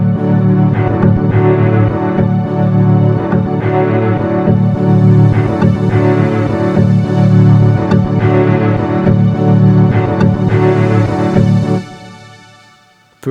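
A KORG Wavestate synthesizer plays with all its layers combined: a dense, sustained, pulsing pad with a strong low end and shifting upper textures. It stays loud and steady, then fades out near the end.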